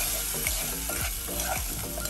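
Brown sugar is stirred into melting butter in a pan for a sorrel sauce, a dense continuous sizzle with rhythmic scraping strokes about every half second, close and without talk.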